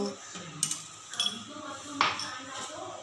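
Kurma mixture with dissolved gram flour being stirred in a metal pot, a few sharp clinks of a spoon against the pot rising over a soft kitchen background.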